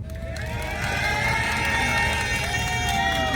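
Crowd at a New Year celebration in Kottayapparambu cheering and clapping loudly, a dense sustained roar of voices and applause that swells after the first second and holds steady.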